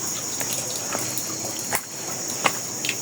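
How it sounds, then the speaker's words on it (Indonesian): Water trickles steadily at an outdoor bathing spot in a forest village, a continuous soft wash with a few brief splashes and drips standing out, while insects hum high in the background. "ada air mengalir di sini"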